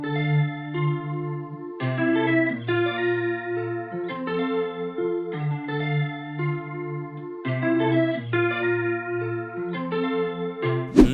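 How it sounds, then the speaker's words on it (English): Synth melody built on the Clean Bramfire preset with EQ and compression, a steady sequence of bright plucky notes over lower tones, layered with chorus-like shimmer, continuous and close with no voices. "This is what a melody sounds like with all the effects on."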